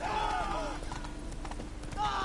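Horse hooves clip-clop on the ground in Witcher 3 as the rider travels on horseback, a steady rhythmic beat mixed with game ambience and other sounds.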